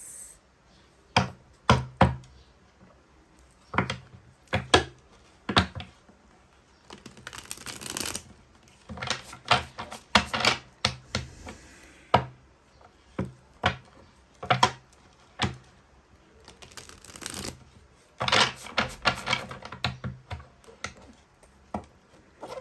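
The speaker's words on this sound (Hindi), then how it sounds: "one more time shuffling and then we will start your reading guys" Tarot cards being shuffled by hand, a series of crisp riffling and slapping bursts in irregular bursts close to the mic, with quiet pauses between shuffles and no talking.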